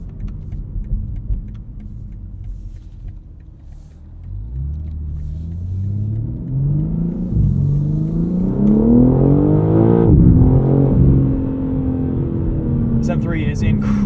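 A 2023 BMW M3 Competition xDrive engine revs up while driving, a rumbling drone climbing through several gears with pitch sweeps and shift breaks, loud and close, building from a calmer cruise.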